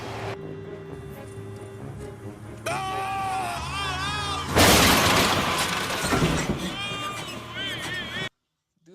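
A car crash from an unhinged 1990s movie's chase scene bursts into a loud shattering, smashing impact midway, surrounded by film score and voices.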